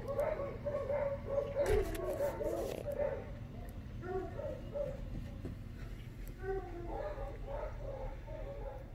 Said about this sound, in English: I've got some noisy dogs as neighbors